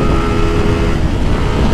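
A 150cc motorcycle running without its catalytic converter, a loud continuous engine drone held close to the microphone with steady harmonic tones and some wind buffeting.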